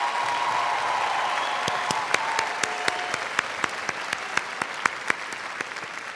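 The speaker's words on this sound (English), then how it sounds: "Let's give these students a round of applause for all of their achievements." A high school graduation audience claps for the class of 2026 graduates: steady, fairly distant applause filling a large hall, with sharper individual claps standing out near the end.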